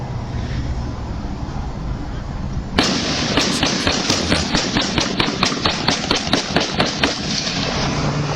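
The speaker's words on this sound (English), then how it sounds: "Really, you can hear just like faint gunfire." Gunfire during a fatal shooting in Florida involving a Lamborghini: after a few seconds of steady background noise, a rapid run of sharp pops repeats at an even pace, sounding somewhat distant.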